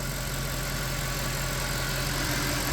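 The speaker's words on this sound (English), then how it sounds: "been letting this thing idle for a little bit longer, kind of revving it." A Mercedes E63 AMG with the 6.2L M156 V8 idling at operating temperature, a steady, smooth low rumble held close and continuous, with no voices.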